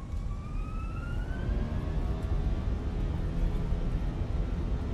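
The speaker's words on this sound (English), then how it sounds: "Oh man, listen to those engines." Airbus A320 jet engines spooling up to takeoff thrust in Microsoft Flight Simulator, a loud steady roar with rising whining tones climbing over several seconds, no talking.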